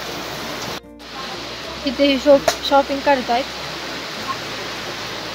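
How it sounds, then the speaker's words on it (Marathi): Steady rain falls outside Mahabaleshwar temple, a constant soft hiss running through the whole scene while people talk nearby. "पाऊस काही थांबलेला नाही अजून"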